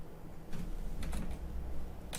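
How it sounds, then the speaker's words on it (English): Computer keyboard typing heard as a few scattered, soft key clicks over a steady background hum, with no talking. "I'm typing it out."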